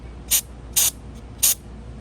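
Carburetor cleaner sprays onto an S&W M&P 5.7 pistol in three short, sharp aerosol bursts, close and loud, separated by brief quiet gaps.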